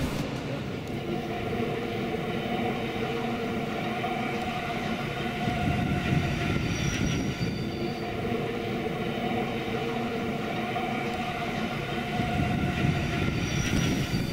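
A Rhaetian Railway train runs past Davos-Laret in the Swiss mountains, giving a steady, continuous rumble and rolling clatter that stays fairly loud throughout, with faint high squeals rising at times.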